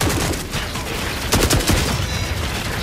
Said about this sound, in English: That little psycho just opened fire on it.